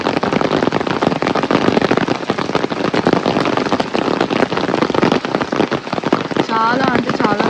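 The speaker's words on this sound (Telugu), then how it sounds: "విపరీతమైన వర్షము, ఘోరంగా వర్షం పడుతుంది" Heavy rain pouring down on a road near Ooty, a dense, loud crackle of drops drumming close by in an unbroken patter, with a brief voice near the end.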